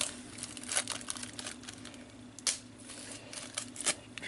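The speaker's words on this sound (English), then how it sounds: "Get all this plastic off her." Plastic packaging peeled and crinkled off a Figma action figure, a close run of dry crackles and rustles with a few sharper snaps, no talking.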